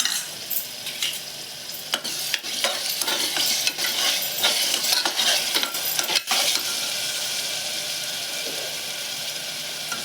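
Onion, ginger, garlic and chili paste sautéing in oil in a pan for a mixed vegetable dish, with a loud close sizzle and quick scraping stir strokes that ease off toward the end.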